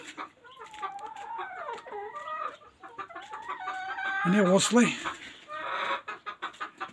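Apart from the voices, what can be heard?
chickens clucking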